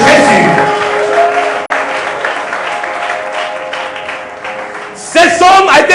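A church congregation claps in sustained applause with cheering voices, loud and steady throughout, swelling again near the end.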